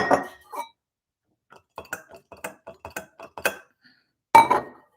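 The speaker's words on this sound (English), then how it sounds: "I get a glass container with stainless steel top. I put it on the door of my refrigerator." A few sharp glassy clinks and small knocks, close by, separated by short pauses, ending with a louder rattle of glass and metal.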